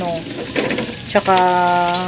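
Milkfish (bangus) frying in hot oil, a steady crackling sizzle close by, with a brief clatter midway and a tonal hum or voice rising over it near the end.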